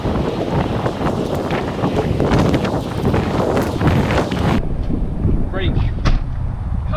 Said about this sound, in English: as you guys can probably tell, because it's windy